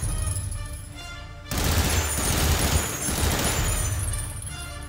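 Sustained gunfire in a World War 2 video game, a dense fusillade that bursts in loudly after a quieter opening second and keeps rattling steadily to the end.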